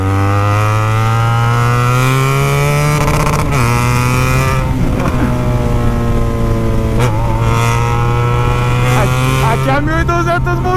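A BMW 1200 motorcycle engine accelerates hard, loud and close, its pitch rising steadily, then dropping briefly at two gear changes before climbing again.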